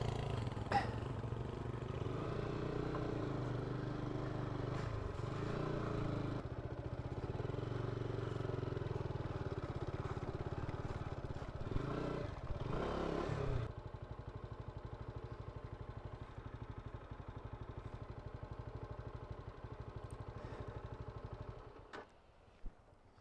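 Motorcycle engine runs loudly and unevenly on an icy road, revving and labouring with clattering, then cuts out near the end leaving near silence.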